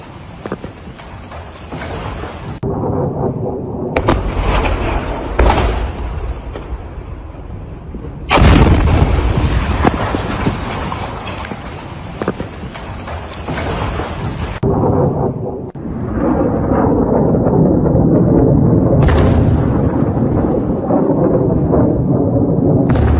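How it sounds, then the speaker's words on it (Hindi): A missile strikes an air base after evading a Patriot air defense system, giving long, loud, rumbling blasts and roaring bursts that swell and break off repeatedly, heavy and distant-sounding, with no speech. "पैट्रियट एयर डिफेंस सिस्टम को भेदती हुई सीधे एयरबेस पर जा गिरी, जिसके बाद ये जोरदार धमाका वहां पर हुआ है"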